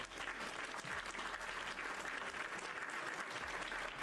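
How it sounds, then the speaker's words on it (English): Steady applause from many hands plays at a soft, even level during a live gaming stream, with a continuous clatter and no break or voices. "Guys, everyone give Adam a round of applause."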